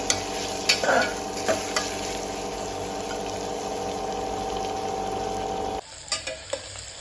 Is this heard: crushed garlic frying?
yes